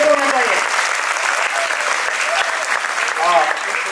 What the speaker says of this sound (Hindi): उनके लिए पहले की जोरदार ताली दीजिए